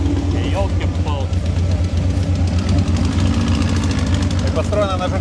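An old homemade turbine car built on a Volkswagen Beetle runs close by, a steady rumbling drone with a rapid pulsing beat and a high whine above it, while voices talk over it.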